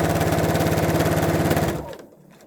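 Sewing machine stitching a silk-satin ribbon scrunchie, a loud, rapid, even mechanical chatter close by that stops abruptly near the end.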